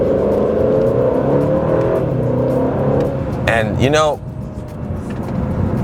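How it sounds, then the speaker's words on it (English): An Aston Martin DB12 with an AMG engine drives under steady load, a loud, close cabin drone with a quick rising-and-falling rev burst near the end, while the driver talks over it. "this being an AMG engine, it does sound really good"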